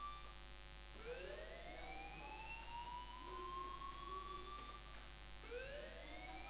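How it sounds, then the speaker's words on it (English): A fire alarm in the Life is Strange video game wails with rising, sweeping siren tones that repeat every few seconds over a steady electronic hum, fairly quiet and with no talking. "do you hear that fire alarm? That means you should be outside."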